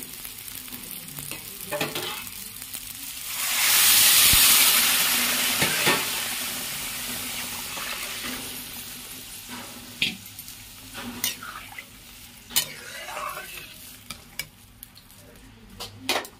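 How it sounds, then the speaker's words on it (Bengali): Hot water poured into a pan of sautéed rice and lentils for khichuri gives a brief loud rushing hiss, followed by scattered clinks and scrapes of a spoon stirring against the pot. "চাল আর ডাল ভালো করে কষানো হয়ে গেছে, এবার আমি পরিমাণ মতন গরম জল দিয়ে দেবো"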